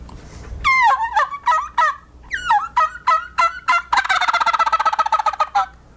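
A flock of wild turkeys in Arizona gobbles loudly and nearby in several rapid, warbling bursts. A fast string of clipped, stuttering calls follows, with no talking.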